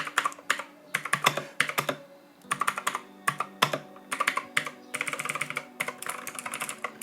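Fast clacky typing on a Modecom Volcano Hammer mechanical keyboard, irregular bursts of crisp keystrokes with short pauses, close and moderately loud.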